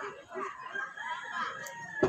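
Chickens cluck and crow at a busy market, their calls woven through a steady din of crowd and stall noise, with a sharper burst right at the end.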